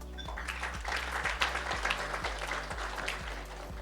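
Audience clapping at a formal association president's dinner: dense, steady applause runs throughout over a low, continuous musical hum with repeating bass notes.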